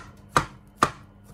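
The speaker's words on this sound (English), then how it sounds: "alternatively I'm going to put it on a wooden board and just roughly chop" Two sharp knife chops cut through broccoli on a wooden board, spaced about half a second apart, close and crisp with no talk.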